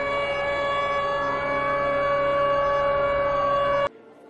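Civil defense sirens sound a steady, loud sustained wail during an Atatürk commemoration at the Eurasia Tunnel in Istanbul, holding unbroken for nearly four seconds before cutting off abruptly.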